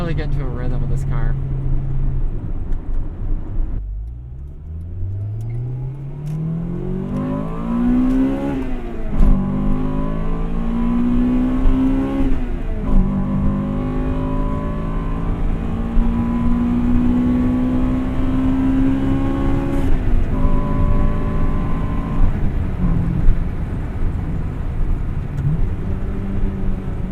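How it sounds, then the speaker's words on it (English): A 1998 Acura Integra Type R's Honda engine revs while driving, its pitch climbing and falling through several sweeps over a steady road drone, with a voice talking over it. "That's the Honda noise."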